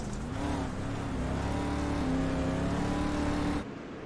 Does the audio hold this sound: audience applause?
no